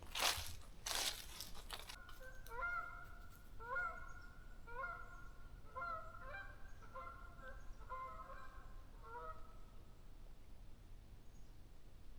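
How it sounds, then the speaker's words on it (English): A flock of geese flies past outdoors, honking in repeated clustered calls that carry on for several seconds at moderate distance, with crunching handling noise at the start and no talk. "We had some geese flying by there."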